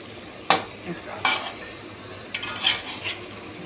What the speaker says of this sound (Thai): ใส่พริกแห้งลงไปน้องพี่น้องพริกแห้งผสมกับพริกสด